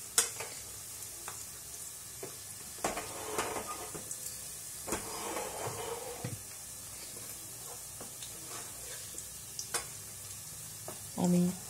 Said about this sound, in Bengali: আমি বড়াগুলো 2 পিঠ গোল্ডেন করে ভেজে নেব।